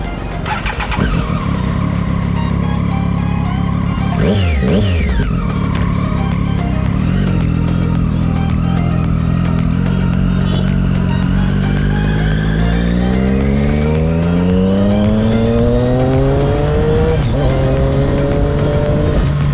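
A Triumph Daytona 675 superbike engine revs hard and loud at close range, pitching up through repeated gear runs with sweeping rising whines while riding, continuous and unaccompanied by speech.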